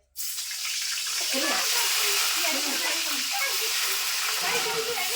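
Brinjal pieces drop into hot oil and set off a sudden loud, steady sizzle that holds unbroken at close range, with faint voices beneath.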